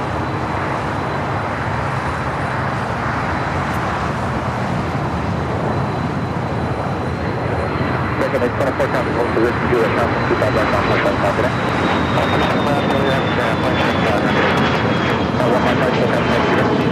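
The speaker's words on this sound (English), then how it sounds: "That was a Embraer Legacy 500." An Embraer Legacy 500 business jet takes off at LAX with a loud, sustained jet roar and rising whine that swells over the whole stretch. Traffic noise sits beneath, with no talk.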